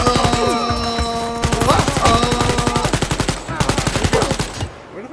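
Rapid submachine-gun bursts fire in Wolfenstein Youngblood, loud and close, with a few pauses between strings of shots and a brief mechanical clatter at the end.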